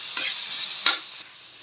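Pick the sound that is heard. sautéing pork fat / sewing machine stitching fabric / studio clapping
sautéing pork fat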